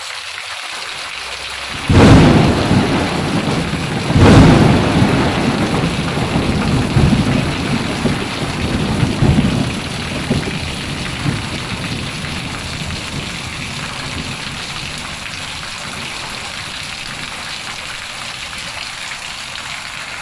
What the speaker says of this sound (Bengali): প্রচণ্ড জোরে বৃষ্টি এসেছে মানে এত জোরে বৃষ্টি এসেছে আর কেমন বিদ্যুৎ চমকাচ্ছে আর বাজ করছে